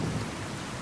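A thunderstorm from the True Storms mod for Fallout 4 on Xbox One, heavy rain hissing under a deep, continuous thunder rumble that swells slightly at the start, with no voices.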